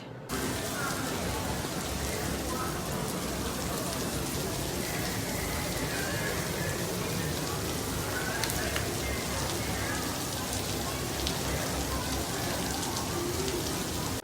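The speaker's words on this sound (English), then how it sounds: "It rained hard." Heavy rain pours at Walt Disney World in Florida near Tomorrowland. It is a dense, continuous hiss of downpour on surfaces that holds steady throughout, with faint background activity.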